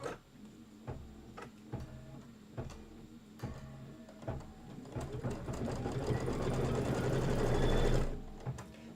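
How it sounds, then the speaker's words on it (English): A Kimberbell embroidery machine stitching a quilt block gives a run of rhythmic mechanical ticks and clacks that thicken into a denser, louder whirring burst before stopping abruptly near the end. "Now it's going to stitch down here in the bottom left corner"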